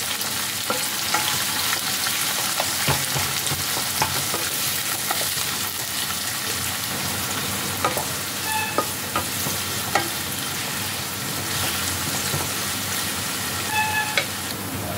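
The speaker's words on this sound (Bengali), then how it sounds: "এবার পেঁয়াজটাকে ভালোভাবে ফ্রাই করতে হবে।" Onions salted and frying in a pan for a lemon-chilli chicken dish, with a steady dense sizzle throughout and repeated sharp scrapes and clinks of a spatula stirring, close and fairly loud, with no talk.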